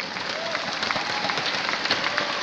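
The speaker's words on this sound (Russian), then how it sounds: "Ваши аплодисменты." Audience applause at an LR company stage event honoring an organization leader, steady dense clapping filling the room throughout, fairly loud with faint crowd murmur and no clear speech.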